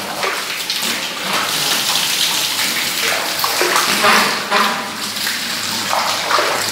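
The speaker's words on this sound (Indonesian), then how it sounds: "Air yang netes kepala bisa mungkin ditelan ya." Water pours and splashes steadily over a person's head during a ritual bath, a continuous close, loud wash of falling water with brief faint murmurs of speech underneath.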